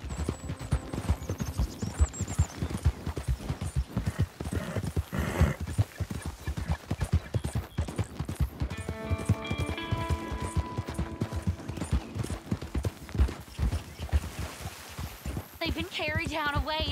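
Horse hooves clip-clop steadily in Red Dead Redemption 2, a continuous rhythmic pounding running under game dialogue, with brief music and whinny-like tones near the end.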